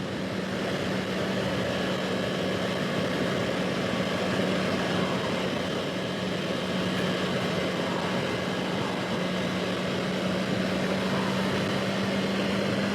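A Honda CB650R motorcycle engine drones steadily while riding, with a constant hum beneath heavy wind rush, loud and unbroken, with no one talking.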